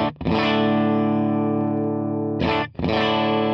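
Distorted electric guitar through an amp model with a compressor on a Fractal FM9, a long sustained chord ringing out evenly, cut off briefly, then restruck and held, close and loud with no talk.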